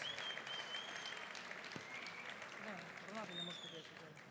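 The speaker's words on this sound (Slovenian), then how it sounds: "Dajmo še en aplavz." Audience applause at a school New Year concert by a secondary mechanical engineering school, a steady, fairly quiet wash of clapping from a hall crowd, with brief speech-like sounds and a few tonal bits over it.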